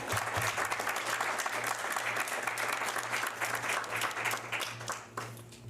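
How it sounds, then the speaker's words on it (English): Sustained audience applause fills a school board of education meeting room, steady and dense for several seconds with a low hum underneath, tapering slightly at the end. "Can we have a round of applause for her?"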